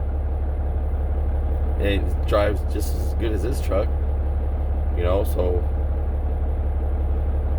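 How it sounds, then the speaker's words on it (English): A Volvo 670 truck engine idles with a steady low hum throughout, fairly quiet and constant, while a person talks over it in short bursts. "It's idling right now."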